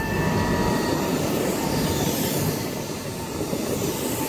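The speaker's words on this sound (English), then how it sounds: "43193 making a very weird noise, and it is absolutely packed again. The bogie squealing." Train 43193, an HST power car, rolling through Bristol Parkway station with its bogie squealing: loud, close rumble and wheel noise with thin high-pitched squeals running over the steady rolling roar.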